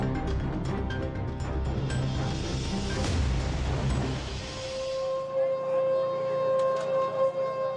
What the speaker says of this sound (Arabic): على صوت صفارات الإنذار التي انطلقت وسط مدينة رام الله لمدة 76 ثانية